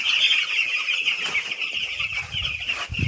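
Young chicks in a poultry shed keep up a steady, dense chorus of high peeping that stays fairly loud and close throughout. A few soft low bumps and rustles come near the end, and no one speaks.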